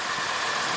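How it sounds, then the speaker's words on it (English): A 2009 Ram 4500 dually pickup with a Cummins diesel engine idles steadily at close range, a constant broadband rumble with no talk. "4500 Ram with a dually, with a diesel Cummins engine."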